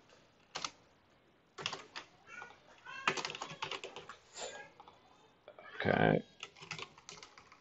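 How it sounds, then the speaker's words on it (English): Bursts of typing on a computer keyboard, quiet clusters of key clicks separated by pauses, with a brief spoken word partway through. "Let's see if I can type here."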